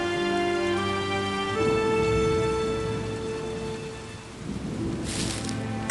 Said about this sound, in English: It began raining, and Arlo knew he had to build a shelter